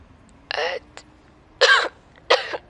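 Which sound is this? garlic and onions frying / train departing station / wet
wet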